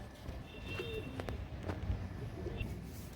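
Kaal Sira pigeons cooing and calling in soft, intermittent bursts at a modest distance, over a steady outdoor background hum with faint wingbeats.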